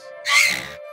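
A brief squeaky, scraping glass rub swells up and fades, recorded as a creature movement sound for the game Dauntless, with a faint steady tonal hum underneath and no voices.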